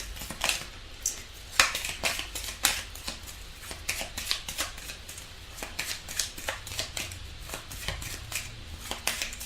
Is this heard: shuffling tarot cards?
yes